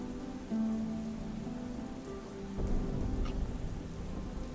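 Steady rain patters as background ambience in a tabletop role-playing game session, a dense even hiss with a low rumble of distant thunder rising partway through, with no voices.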